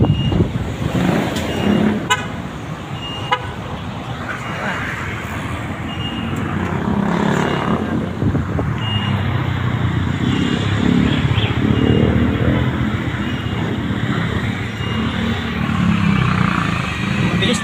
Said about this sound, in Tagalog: medyo mabilis naman po ang daloy ng traffic ng mga sasakyan